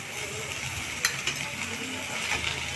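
Vegetables for a winter veg roll fried in a pan with boiled potato, a steady low sizzle with a few sharp scraping clicks of stirring, close and alone.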